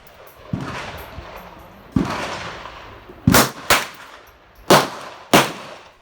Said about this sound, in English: you're going to see the sticker get shot off as I successfully hit it with the 380